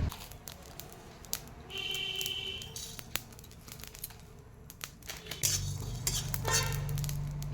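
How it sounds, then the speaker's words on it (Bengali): Dry chili, whole cumin and five-spice rattle in a dry pan, with scattered clinks and scrapes of a stirring utensil against the metal over a quiet kitchen background, the stirring growing busier toward the end. "এবার শুকনো কড়াইতে আমি ফোড়নটা ভেজে নিব।"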